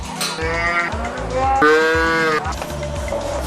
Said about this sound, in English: Cows sound crazy when I take the babies.